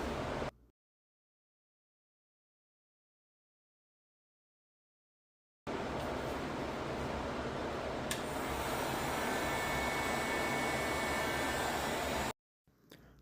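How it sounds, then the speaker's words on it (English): A small heat gun plugged into a 15 amp magnetic power strip blows with a steady, loud fan-and-air roar after a long silent gap, running for several seconds before cutting off abruptly. "I also have this little heat gun that I'm going to run"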